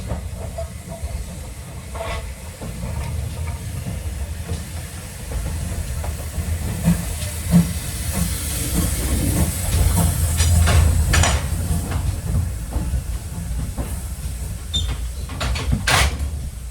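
GWR large prairie steam locomotive 5199 hisses steam on the Battlefield Line Railway, a continuous broad hiss that grows louder midway, with occasional clanks and knocks of railway equipment nearby.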